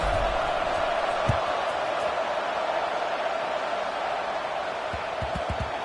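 A stadium crowd in a Madden football video game keeps up a steady, distant roar throughout, with a few faint thuds toward the end and no clear voices.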